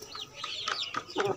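Chickens cluck in short, close bursts around a home poultry pen in Multan, a few sharp calls in quick succession.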